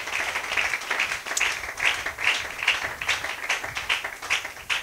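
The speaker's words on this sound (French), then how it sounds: "donne une main d'acclamation au Seigneur" A church congregation applauds during an evening service with a crowd of hands clapping steadily. The clapping swells in a loose repeating rhythm at moderate volume, with no clear talk over it.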